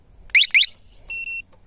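The alarm system on a Delta Racer moped sounds nearby: two quick rising electronic chirps, then two steady high beeps, all loud and short with no talk.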